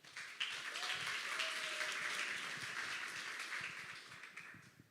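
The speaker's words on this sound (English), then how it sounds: "So big applause for him." Audience applause for a speaker at a panel room event, a steady wash of clapping that sets in abruptly and holds for about five seconds with no talk over it.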